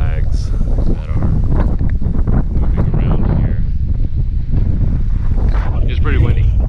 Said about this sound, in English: It is a really windy day today.